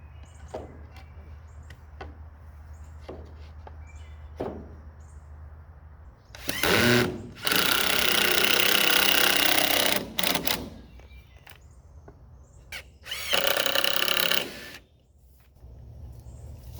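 Power drill driving weak drywall screws into a shop wall, two long whirring bursts of several seconds each separated by quiet sharp clicks and taps, close and loud.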